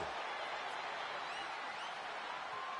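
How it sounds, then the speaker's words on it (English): Capacity arena crowd in the wrestling video game WWE 2K25 during a no-holds-barred match, a steady, dense roar of cheering spectators filling the clip at constant loudness with no individual voices standing out. "do you hear this capacity crowd?"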